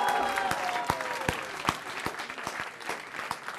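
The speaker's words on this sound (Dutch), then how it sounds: "Nou, hij mag wel een beetje beter applaus. Toch? Een CJP-pas. Tom, applaus voor Tom." A small audience claps, a scattered patter of individual hand claps at a moderate level, fairly sparse rather than a full roar.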